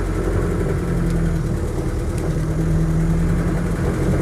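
A Land Rover Defender 90 soft-top with a reconditioned 2.5-litre diesel engine idles steadily, a close, even low-pitched rumble with no speech.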